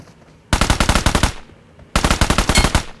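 Two close, loud bursts of rapid automatic rifle fire in PUBG Mobile, each about a second long with evenly spaced shots, separated by a short pause.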